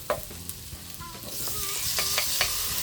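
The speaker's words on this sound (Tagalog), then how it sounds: "Okay, so ilalagay natin ngayon ang kamatis." Ripe tomatoes, three pieces, tipped into a pan of sautéed onions, with clatters and scrapes of a spatula followed by a rising, steady sizzle of frying.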